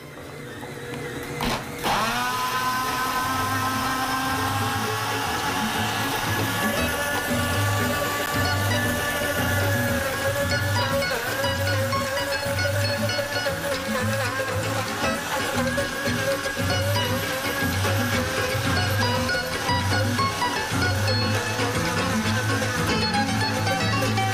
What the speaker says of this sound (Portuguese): Beleza, tudo no liquidificador. Então agora bora bater.